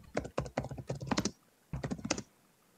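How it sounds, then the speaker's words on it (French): Someone hammering hard at a computer keyboard, two rapid bursts of loud, clattering keystrokes separated by a short pause, close and prominent with no talk over them. "Qui c'est qui tape son clavier avec un marteau?"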